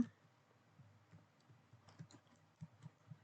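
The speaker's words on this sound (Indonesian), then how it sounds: "Tinggal diketik aja seperti ini." Quiet, close clicks of typing on a computer keyboard, a short irregular run of keystrokes that grows a little busier toward the end, with no talking.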